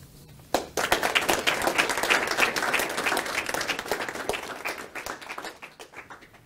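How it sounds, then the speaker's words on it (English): Lecture audience breaks into applause after a brief quiet moment, dense steady clapping that fills the room and gradually thins out toward the end. "let's have a warm round of applause for her"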